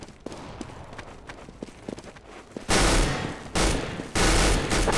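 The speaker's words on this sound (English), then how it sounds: "Oh, he's going for the big guns now. He's got the Negev." A Negev machine gun fires in CS:GO after a stretch of footsteps and scattered movement sounds, then three loud, sustained full-auto bursts follow in quick succession at close range.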